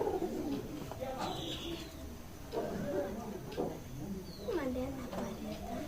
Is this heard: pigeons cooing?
yes